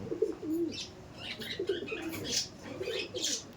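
Giribaj pigeons cooing close by in soft, low, rolling calls repeated several times, with some faint chirps and rustling around them and no clear talk.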